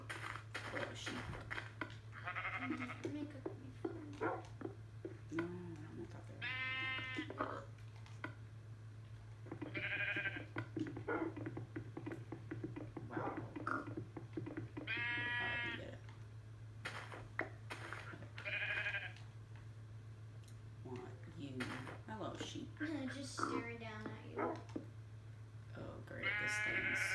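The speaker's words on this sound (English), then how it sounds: "Oh, a sheep." Sheep in the Minecraft video game bleat repeatedly in short wavering calls spread across the clip, over a constant low background hum, with faint keyboard typing.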